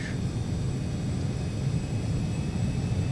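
Jet engine noise from a Carenado Citation CJ2 (525A) in a flight simulator: a steady, broad rumbling roar with a faint high whine, continuous and fairly even throughout, with no talking.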